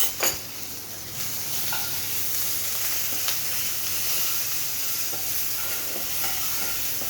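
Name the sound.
green chilli and garlic paste frying in pan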